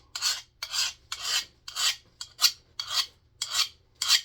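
A metal file sharpening a hardened steel chisel: eight steady, evenly spaced rasping strokes, close and fairly loud, with short pauses between them and no talk.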